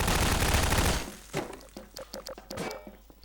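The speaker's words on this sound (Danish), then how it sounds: "Jeg skyder ham." Video game gunfire: a dense burst of rapid shots for about a second, then several separate sharper shots and thuds spaced irregularly, loud and close, with no talking.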